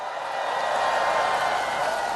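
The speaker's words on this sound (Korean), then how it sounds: "자, 여러분 윤일상 선생님에게 큰 박수 하나 보내주시기 바랍니다." Applause and crowd cheering at a political campaign rally, a dense steady roar of many hands clapping that swells slightly and holds throughout.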